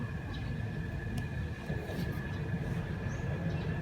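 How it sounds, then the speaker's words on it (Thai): A train bound for Ubon rumbles past at moderate distance near Surin, Thailand, a steady low roar with faint metallic tones and squeals over it. "รถไฟคันนี้จะไปขบวนนี้จะไป อุบลปลายทางอุบล"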